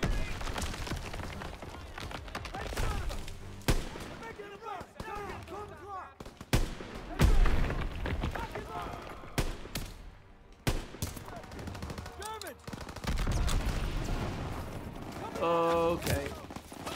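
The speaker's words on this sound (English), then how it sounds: "Gunfire! We must be near our guys." Rapid bursts of automatic and single-shot gunfire from a World War II battlefield in the video game Call of Duty: WW2, crackling repeatedly throughout at moderate distance, mixed with game sounds and occasional talk.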